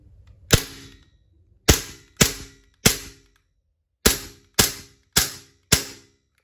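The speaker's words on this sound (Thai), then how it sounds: "จะยิงใส่กล่องด้านหน้านะครับ" Eight sharp BB pistol shots from a WE G19 are fired at a cardboard box, loud and close, in an uneven sequence of one, then three, then four cracks, each decaying quickly into near silence.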